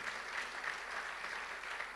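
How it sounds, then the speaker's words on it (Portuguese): A church congregation claps together in steady, dense applause heard from a distance, a broad even patter with no voices standing out. "dê um aplauso exaltando o nome do Senhor"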